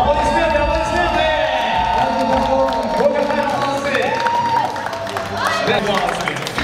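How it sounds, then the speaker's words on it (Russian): Crowd applause and cheering at a Moscow hookah party event, steady clapping with whoops under continuous loud talk over a microphone. "Аплодисменты, аплодисменты!"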